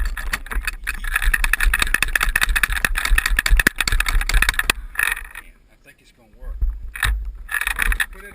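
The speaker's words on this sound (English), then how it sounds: "probably going to hear a little rattle when I shake it" GoPro HERO2 Shoei helmet mount, not yet tightened, rattling as it is shaken by hand; dense clattering bursts for several seconds, a pause, then more rattling.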